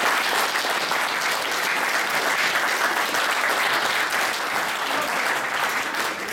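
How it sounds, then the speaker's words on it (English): Sustained applause from an audience at a speech event, a steady dense clatter of many hands filling the room for several seconds without a break. "Round of applause for all that, please"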